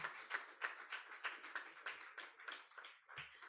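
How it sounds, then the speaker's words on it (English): Applause from an audience at a partnership celebration event in Mumbai, quiet, distant claps in an uneven pattern that fades out over a few seconds, with no talking. "a big round of applause for Colonel Rajendra Prasad Nadella."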